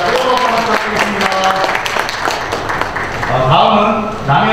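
Applause at an inauguration ceremony for a merchants' association president in Wangsimni, with clapping from the audience running throughout beneath a voice speaking over a microphone.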